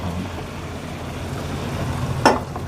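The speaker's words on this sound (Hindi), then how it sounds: "तकरीबन हाफ़ कप हमने पानी डाला इसमें" About half a cup of water poured into chicken do pyaza gravy in a pan, a steady close rushing hiss with a brief louder splash near the end.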